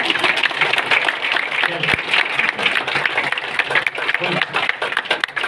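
An audience in Delhi breaks into steady, dense applause to welcome a speaker, a continuous wash of clapping at even loudness, with a few voices mixed in.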